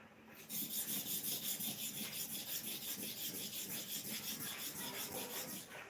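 Clipper blade rubbed back and forth on a new sharpening stone, giving a rhythmic series of gritty rasping strokes, roughly two per second, steady and close, with nothing else heard.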